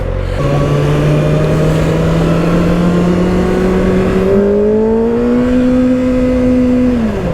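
A 2024 Kawasaki ZX-6R 636 stock exhaust drones steadily while riding, its pitch rising gradually as it accelerates, loud and close throughout.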